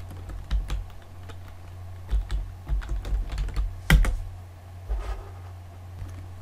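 Keys clatter on a computer keyboard in short irregular bursts of clicks, with one louder stroke near the middle and quiet gaps between bursts, close and with no speech.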